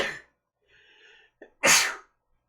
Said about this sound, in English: So I'm gonna sneeze.